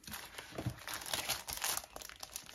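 Brown paper being handled and crinkled up close while making a vision board, with a busy stream of rustles and crunchy crackles that rise and fall in short bursts, fairly quiet overall.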